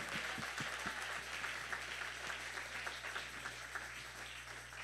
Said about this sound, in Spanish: dele un aplauso fuerte al Señor